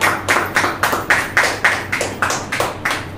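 A church congregation claps during a pastor's sermon, about a dozen loud, evenly spaced claps in a steady rhythm, close and without talking.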